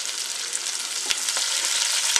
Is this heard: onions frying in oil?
yes